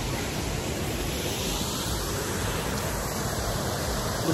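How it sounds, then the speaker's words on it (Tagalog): Rushing water at Bokong Waterfalls roars close by as a dense, steady wash of broadband noise with no let-up and no other sounds. "Bokong Waterfalls. Naririnig din sa aking likod."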